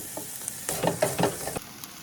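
Beef for quesadillas sizzles in a hot pan, a close, crackling fry with a few clattering stirs and scrapes in the middle before it settles back to a softer hiss.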